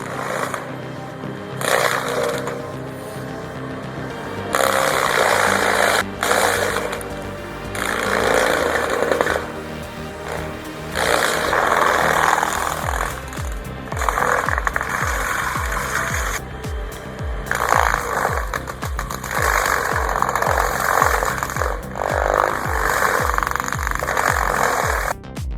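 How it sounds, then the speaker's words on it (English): Cat 325 excavator fitted with a Denny grinder head shredding a tree, a loud rhythmic grinding and chattering that surges in repeated bursts over a steady hydraulic engine drone. "Watching a Cat 325 with a Denny grinder erase a 2F tree in just 2 minutes feels like cheating physics."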